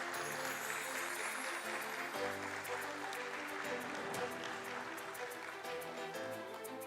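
Applause from the gathered crowd at Omnitech Engineering Limited's listing ceremony at BSE, a steady wash of clapping held under music-like tones throughout, moderately distant and even in level.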